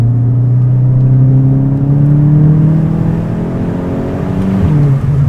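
Volkswagen Golf 7 TCR accelerating hard, engine note rising steadily through the revs as it pulls, loud and close from inside the car with no talk.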